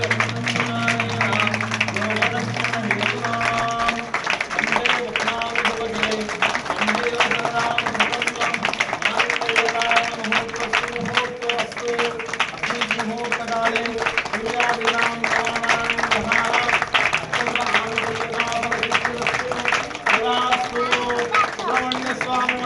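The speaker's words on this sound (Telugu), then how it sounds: "అందరూ చప్పట్లు కొట్టాలి గట్టిగా." An audience claps steadily at a Hindu religious ceremony, a continuous rhythmic patter lasting the whole stretch, with voices and tonal sounds carrying underneath.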